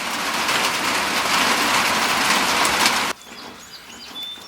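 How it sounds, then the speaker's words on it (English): Steady early-morning rain pours down in a dense, even hiss for about three seconds, then drops away abruptly to a much quieter patter with faint bird chirps. "And apparently it's raining."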